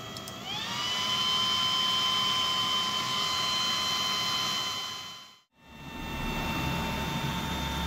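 A GeForce 8800 GT graphics card fan spins up from idle to full speed on a test bench, a steady close whir that climbs in pitch and then holds a whiny tonal hum, with a brief dropout before it resumes.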